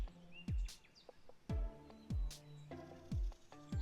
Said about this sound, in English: one bird's song is louder than the others